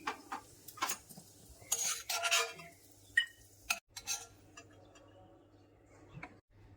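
Fried cashews scooped from a pan into a bowl, a scattered series of light clinks, taps and scrapes of a spoon on metal, close and fairly quiet, fading to near silence toward the end.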